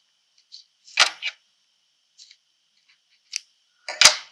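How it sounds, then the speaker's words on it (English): Sharp bursts of tape being pulled and torn while taping down a hand-stitched spring card, several short crisp rips and crackles separated by quiet pauses, close and alone. "So we'll tape that down."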